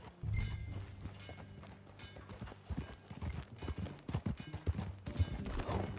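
Horse hooves clip-clop in a steady riding rhythm in the Red Dead Redemption 2 video game, fairly close and moderately loud, with low rumbling game ambience underneath and no talk.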